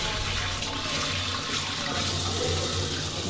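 Tap water runs hard and steady into a sink while pangas fish is being cleaned, a loud, continuous splashing rush with no talking.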